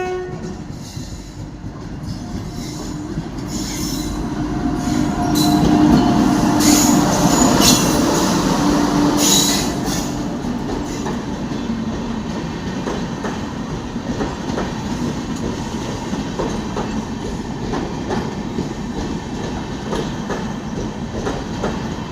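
The Purulia Express 14022, an Anand Vihar Terminal to Purulia Junction passenger train, rumbles loudly along the rails with a steady roar, rhythmic clatter and a brief horn-like tone, heard up close for a long stretch.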